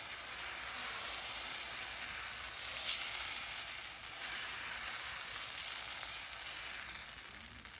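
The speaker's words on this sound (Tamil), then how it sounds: "இப்போ நான் தோசை மாவை விட போகிறேன்." Tomato dosa batter sizzles steadily on a hot griddle stone, a loud, continuous crackling hiss that holds even throughout with no voices.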